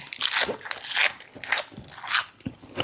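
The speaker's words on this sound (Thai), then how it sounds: "เดี๋ยวลองชิมดูมันจะกรอบ กรอบเหมือนกันไหม" Several crunchy bites into a large bullet jellyfish tail, crisp close crackling bursts spaced about half a second apart with brief pauses between.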